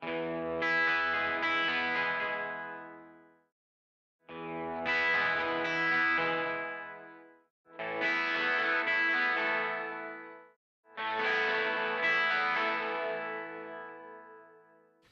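A pair of 12-string electric guitars shaped by high-pass and low-pass filters strum four separate chords. Each chord rings bright and shimmering for about three seconds, with a short silence between them.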